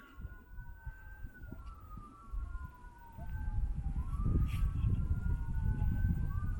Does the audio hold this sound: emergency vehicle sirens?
yes